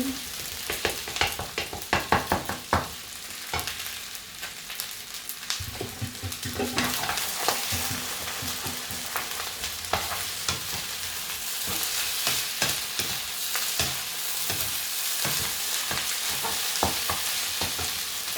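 Two eggs are beaten and stirred in a sizzling pan for naem fried rice, with rapid, irregular clinks and scrapes of the utensil over a continuous close frying hiss and no talking.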